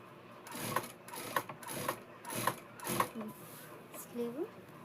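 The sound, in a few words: sewing machine stitching a Punjabi dress shoulder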